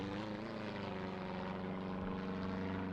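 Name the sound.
chartered forest service helicopter flying over a fire zone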